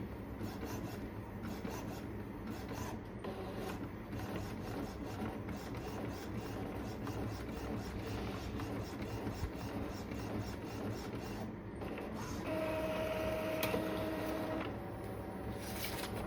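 A printer runs a nozzle check page, a faint steady rasping and whirring of the print head and paper feed, ending in brief mechanical tones.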